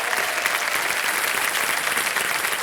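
Sustained applause from a studio audience on the KBC Season 14 quiz show set, a dense, steady wash of many hands clapping throughout with no voices on top.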